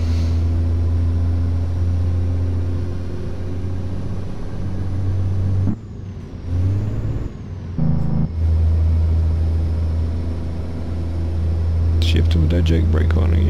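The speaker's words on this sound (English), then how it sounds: "Jake brake on again." Kenworth W900L truck hauling dry milk, its Jake brake engaging with a loud, steady low rumbling drone from inside the cab, the engine note dipping and shifting midway before the heavy rumble resumes.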